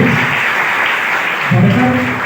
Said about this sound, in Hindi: आप तालियों से स्वागत करें